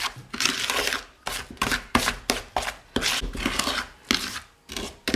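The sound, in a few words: mixing cookie dough ingredients in a bowl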